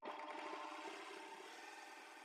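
A coverstitch sewing machine runs a single chain stitch, giving a steady, close mechanical whir that holds evenly for a couple of seconds with no talk over it.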